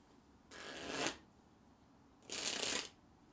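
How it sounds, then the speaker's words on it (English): Two quick riffle shuffles of a deck of cards, each a brief crisp burst separated by a short quiet pause. "Can you hear me shuffling this deck?"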